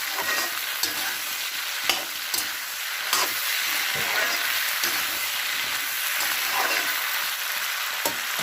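Pork sizzles in a pan with freshly added tomatoes, a steady close fry broken by repeated scraping stirs of the utensil at an uneven pace.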